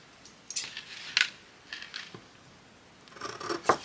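Scissors snip paper for a handmade fairy journal in a quiet room: a few short, crisp cuts close by, spaced irregularly with soft rustling between them.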